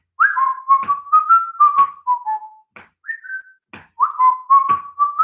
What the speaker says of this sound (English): Everybody at home, can you whistle along with me,